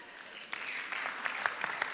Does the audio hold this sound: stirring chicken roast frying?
no